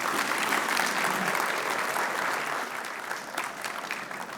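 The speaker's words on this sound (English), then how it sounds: "Give a huge round of applause" Audience at a university festival inauguration ceremony applauds steadily for several seconds, a dense, loud wash of clapping that eases slightly toward the end.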